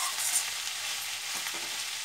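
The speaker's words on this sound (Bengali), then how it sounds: "এটাকে ভালো করে মিশিয়ে নেব। এটা ভাজতে ভাজতেই প্রায় সিদ্ধ হয়ে এসেছে" Onion flower stalks, potato and brinjal hiss and sizzle in a pan as they are stirred, a close, continuous frying wash with a few scraping strokes and no voices.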